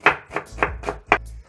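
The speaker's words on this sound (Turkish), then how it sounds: "bakın şu şekilde soğanımı doğrayacağım." A knife chops an onion on a cutting board for bulgur pilaf with vegetables: five crisp, close strikes in an uneven rhythm, with no voices.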